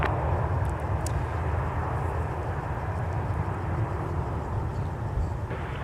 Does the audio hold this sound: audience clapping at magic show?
no